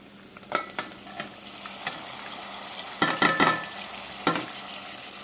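Fresh coriander is stirred into a frying pan, a light sizzle running beneath irregular scrapes and clinks of the spoon, with a quick cluster of strokes midway and another near the end.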